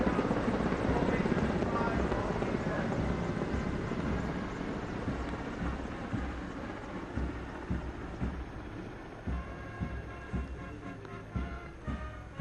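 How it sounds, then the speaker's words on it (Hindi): Army helicopters fly in formation over Rajpath during a Republic Day parade, their rotors a loud, steady thudding roar that slowly fades, with a faint commentator's voice beneath. "सेना के हेलीकॉप्टरों के साथ ये नजारे की शुरुआत हुई"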